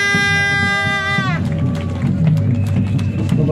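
Rally crowd breaking into loud applause and cheering right after a voice and tone fade, a dense continuous wash of clapping mixed with crowd babble, close and full.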